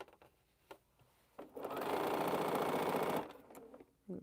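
A home sewing machine with a newly changed bobbin runs steadily for about a second and a half, loud and close, with quiet handling clicks before and after and no talk.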